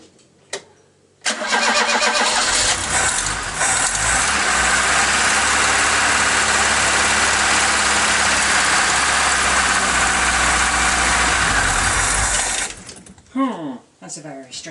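A Mk3 Ford Cortina Estate engine with a freshly adjusted carburettor cranks, catches and runs at a loud, steady idle close by for about eleven seconds, then cuts out, with a voice speaking briefly afterward.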